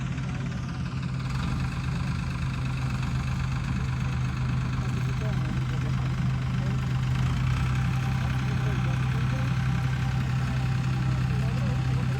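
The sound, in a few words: tractor engine running in field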